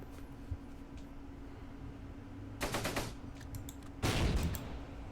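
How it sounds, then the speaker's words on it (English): Grenades burst during a Close Combat multiplayer battle near Caen, with two sharp explosive bursts rising out of a low background hum, the second louder and closer, with no voices. "Wow, a lot of grenades being thrown."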